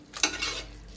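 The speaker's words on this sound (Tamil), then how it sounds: "ஆட் பண்ணதுக்கப்புறமா 2 பெரட்டு பெரட்டிக்கோங்க" A chicken biryani masala stirred in a pressure cooker gives a brief metallic scrape and clatter of spoon against pot, one sharp stroke followed by a softer sweep, close and alone.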